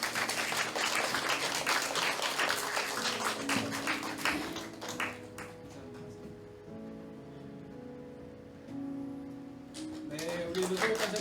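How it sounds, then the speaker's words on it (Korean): Congregation in a Korean church sanctuary claps to welcome a new children's ministry staff member; full, lively applause for about five seconds, then it thins and fades as a voice and soft tones take over. "여러분 우리가 한번 박수로 환영하도록 하겠습니다"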